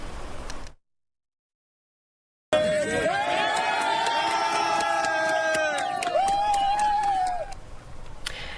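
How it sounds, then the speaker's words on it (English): Spanish emergency responders cheer and shout as an earthquake survivor is carried from rubble, a loud sustained group cheer with whoops and calls after a brief silent gap, fading at the end. "Video shows Spanish emergency responders cheering Sunday as the man is carried to safety."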